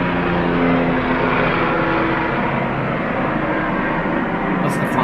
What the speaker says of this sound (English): It sounds like a helicopter, doesn't it?